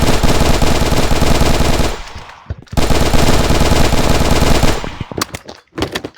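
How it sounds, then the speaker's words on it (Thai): Rapid automatic gunfire from a modded gun addon in Minecraft, a long sustained burst, a brief pause, then another long burst ending in a few scattered single shots, loud and up front. "โอ้ยิงหลายนัด"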